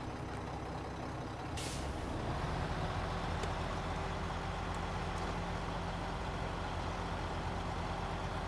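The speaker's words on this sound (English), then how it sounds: "I like the sound of the Mack truck." A sharp hiss of an air brake, then a steady, loud Mack truck engine rumble in a video game that drones on continuously without any talking.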